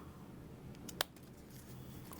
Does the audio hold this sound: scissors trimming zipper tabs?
yes